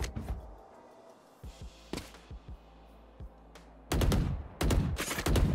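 Gunfire in the tactical shooter Valorant: a few isolated sharp shots early on, then loud sustained bursts of rapid fire near the end.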